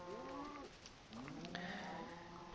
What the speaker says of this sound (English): So let's go ahead and breed our cows.